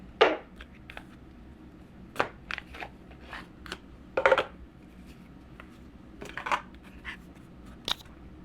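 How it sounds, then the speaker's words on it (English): Oracle cards being shuffled and drawn, heard as scattered soft papery flicks and brief riffling bursts spaced irregularly across a quiet room, close and fairly faint. "so let's pull the dragon cards for you."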